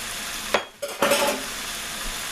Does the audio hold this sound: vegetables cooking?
yes